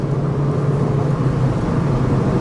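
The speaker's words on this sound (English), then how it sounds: "So I'm just getting into 5th gear right now." A 2009 Honda Civic Si sedan accelerates in fifth gear, its engine giving a steady, loud droning hum with road and wind noise heard from inside the cabin, with no talking.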